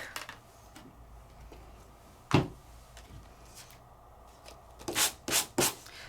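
Paper freshly embossed with a vine pattern being sanded by hand: a few scattered rubs, then a run of three brisk, close scraping strokes near the end, with no talk.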